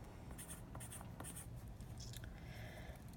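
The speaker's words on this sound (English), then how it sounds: "we're going to circle it and then write it in the blank" Pencil on paper, circling an answer and then writing it into a blank: soft, quick scratching strokes in short bursts, close but faint over a steady low background rumble.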